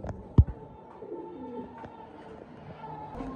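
A pair of checker Dhamasin pigeons coo softly nearby, low repeated murmuring calls beneath a sharp thump near the start and faint background clatter.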